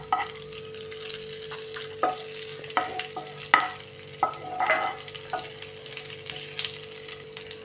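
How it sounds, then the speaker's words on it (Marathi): Cashews and raisins fry in ghee over a low flame, giving a steady close sizzle. Occasional scrapes and clinks of stirring break through, and no one speaks. "हे आता तुपावर थोडा वेळ परतून घेऊया"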